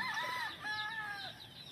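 A couple of hens cluck and croon softly in short, rising and falling calls, fairly faint, with a light outdoor hum behind them.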